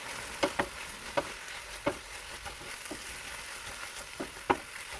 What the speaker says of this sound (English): now put the mushroom in and stir fry for a little bit first